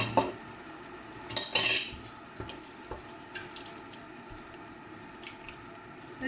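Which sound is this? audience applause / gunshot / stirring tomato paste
stirring tomato paste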